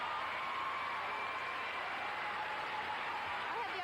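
Steady, sustained applause from an arena crowd after a pair's figure skating performance at the 1992 World Junior Figure Skating Championships, a dense continuous wash of clapping at even loudness throughout.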